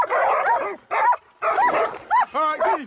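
Hunting dogs bay and yelp at a cornered boar in short, loud bursts with rising whimpering yips, broken by brief pauses.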